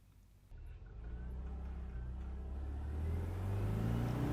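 A Volkswagen driving off and accelerating, its engine rumble building steadily from a low start into a rising, revving drone heard from inside the car, with no talking.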